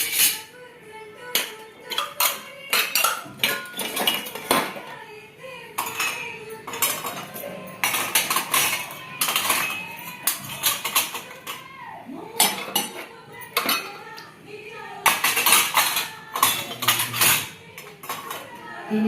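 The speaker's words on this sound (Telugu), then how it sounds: "మనం గ్లాసులన్నీ పై ర్యాక్లో పెట్టేసుకోవాలా" Glasses, small bowls, ladles and small plates clatter and clink as they are set into the upper rack of a home dishwasher, irregular bursts of sharp ceramic and glass knocks separated by brief quiet gaps.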